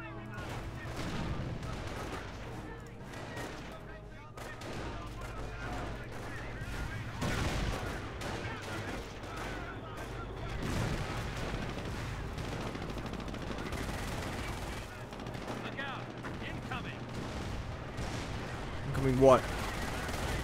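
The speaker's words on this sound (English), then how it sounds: "Oh shit, I think the artillery strike just got us." Gunfire and artillery strikes in the Company of Heroes Normandy campaign at Cherbourg: dense rattling fusillades and machine-gun bursts with deep booms, continuous throughout, and a sharper blast near the end, with some talk underneath.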